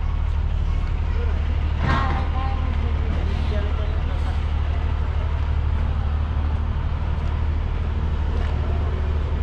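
A non-AC MSRTC sleeper bus drives along on a night journey, its engine giving a constant loud low drone and road rumble throughout, with faint voices and a brief knock over the hum.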